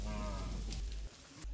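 Cattle on a subsistence farm in Africa give a single long, low moo that carries clearly, then fades into quiet outdoor ambience.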